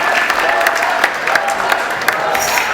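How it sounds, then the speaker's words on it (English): Audience applause after a Lakota courting song at a school arts and language festival, a steady wash of many hands clapping close by, with scattered sharper claps poking through and a faint voice or two underneath. "another round of applause for our Lakota courting song"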